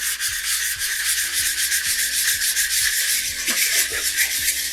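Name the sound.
sanding a model rocket tube end with a sanding tee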